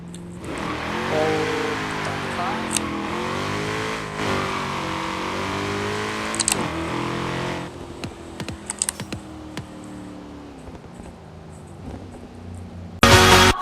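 A 2016 Ford Shelby GT350R launches hard, its engine roaring and rising through several gear pulls for about eight seconds before easing off, followed by scattered clicks and a loud burst at the end.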